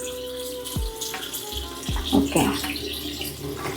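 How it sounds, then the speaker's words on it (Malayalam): Water runs steadily from an opened tap at a home sink, a continuous splashing wash with a few clinks, while a person speaks briefly over it. "ഇല്ലേ, പൈപ്പ് തുറന്ന് വെച്ചിട്ടുണ്ടോ?"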